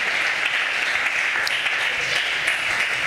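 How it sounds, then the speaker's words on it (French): A church congregation applauds and cheers for Jesus, a dense, steady wash of clapping from many hands filling the room at close range. "Est-ce qu'on peut acclamer très fort le Seigneur"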